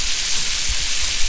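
Butter melting in a cast iron skillet gives off a steady, close hiss of fine sizzling crackle with no talking, the frying texture holding even throughout.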